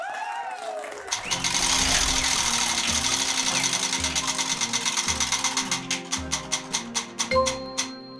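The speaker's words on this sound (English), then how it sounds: "we're gonna have Brandon go ahead and spin the wheel." Trivia game show prize wheel spun hard, a whirring rush of rapid clicks that slows into distinct, widening ticks as it coasts to a stop, loud and close.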